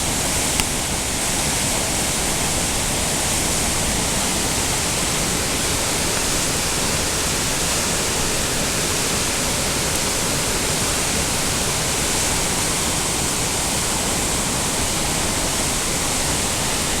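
Rushing water along the Zeballos River during rain on snow, a dense, steady roar of high-volume flow near the roadside that stays loud and unbroken throughout, with no voices.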